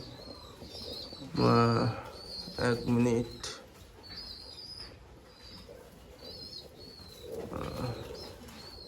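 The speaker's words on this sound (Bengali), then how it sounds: "তো আসুন আরও একটা পায়রা আপনাদেরকে দেখায়" Pigeons coo in low, throaty bursts close by in a pigeon loft, with faint chirps behind and a person speaking briefly.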